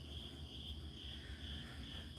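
Crickets chirp steadily in a quiet evening background, a faint continuous high trill with no pauses and no voices.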